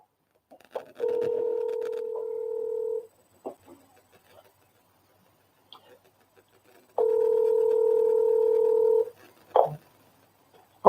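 A phone plays two steady electronic tones, each about two seconds long and separated by a pause, with scattered clicks and faint bits of voice around them.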